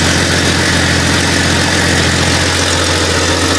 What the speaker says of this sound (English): this is just a good motor